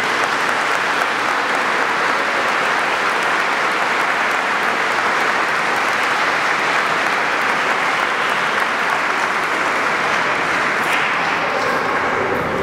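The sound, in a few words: applause for the nuns in a church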